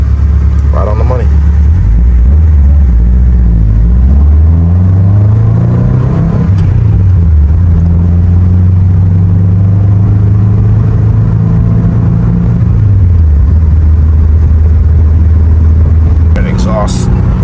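A tuned Subaru engine revs through its exhaust, rising and falling several times in loud, close, sustained sweeps before settling to a steady high drone, then dropping back toward idle.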